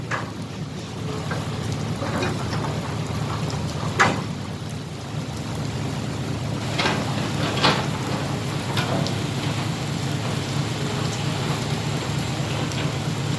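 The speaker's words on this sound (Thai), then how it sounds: "มาวันเดียวก็ ฟ้าฝนมาเลย" Steady rain falls and patters on surfaces, with a low rumble underneath and a few sharper drips or knocks standing out.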